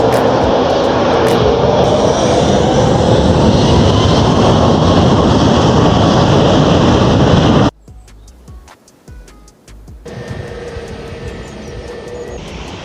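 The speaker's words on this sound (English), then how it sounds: "Just going to hang on for another plane and then get on." A plane passes overhead near Lanzarote Airport, a loud, sustained jet roar that abruptly drops away, then a quieter engine rumble follows.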